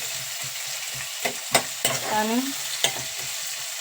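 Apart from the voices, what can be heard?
onions frying until golden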